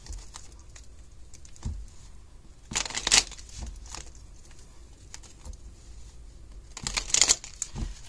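Tarot cards are shuffled at a reading table, a soft papery riffle and patter in short bursts that swell twice to a crisp flurry, close and fairly quiet with no talk.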